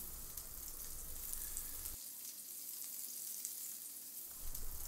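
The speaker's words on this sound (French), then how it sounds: "Donc je vais poser le rhum steak dans la poêle." Rumpsteak searing in a hot frying pan, a steady broadband sizzle that runs throughout at moderate level, with a brief dip in the low rumble midway before it swells again.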